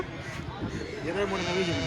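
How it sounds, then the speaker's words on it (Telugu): Sheep at the Pileru livestock market bleat several times nearby, wavering cries that mingle with people talking. "ఇక్కడ చూడండి గొర్రెలు అయితే ఉన్నాయన్నమాట"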